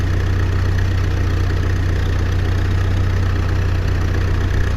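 Steady, continuous vehicle engine drone at a low idle-like pitch from a vehicle driving in the military game All Aspect Warfare, holding an even level throughout with no talk.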